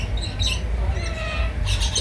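Lorikeet parrots in an aviary at Long Beach Aquarium give harsh, shrill squawks in short bursts, close and loud over a low background rumble.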